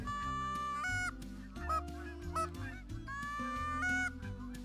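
Geese honking in the hunting game Call of the Wild, a loud, close flock calling in overlapping, nasal honks that repeat steadily throughout with no talk.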